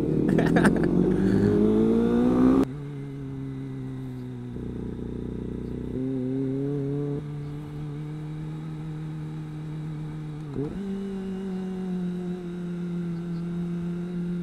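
A group of sport motorcycles, including a ZX-4R, Z900, RC 390, GSX-S 1000 F and R6, revving hard at first and then settling into steady, droning engine hum with shifting tones, heard close and continuous without talk.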